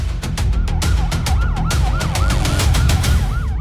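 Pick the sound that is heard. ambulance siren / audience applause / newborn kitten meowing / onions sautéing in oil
ambulance siren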